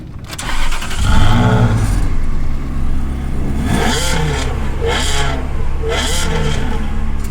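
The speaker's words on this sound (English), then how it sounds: "Let's start the car up." A Ferrari 360 Spider's engine cranks and catches, then settles into a loud idle before several sharp rising revs, close and dominant with no other sounds over it.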